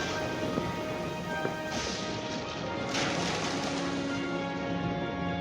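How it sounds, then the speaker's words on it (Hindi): A heavy rain sound effect in an animated children's story about dragons: a steady, dense roar of downpour with driving wind, and a few sharp cracks and swells, running continuously at moderate loudness. "तेज हवाएं चलने लगी और घमासान बारिश"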